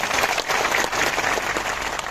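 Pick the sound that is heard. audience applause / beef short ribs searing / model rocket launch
audience applause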